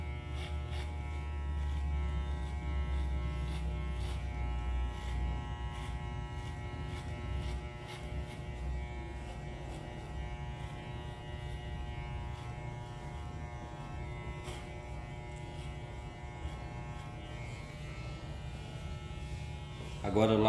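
Electric hair clipper buzzes steadily while cutting a discreet modern mohawk, held diagonally through the hair. The hum is close and continuous, with a person talking over it.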